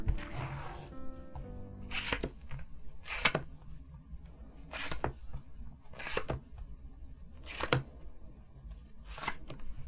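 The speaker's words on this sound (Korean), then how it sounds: "제가 6장을 뽑아보도록 하겠습니다" Tarot cards are shuffled and drawn, giving repeated crisp riffling bursts about once a second, close and fairly quiet, with no voices over them.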